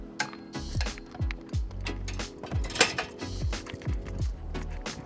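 Bolts tightened on an Evoque VQ-150R dirt bike with an Allen key, a run of small metallic clicks and clinks in an irregular rhythm, close and fairly quiet.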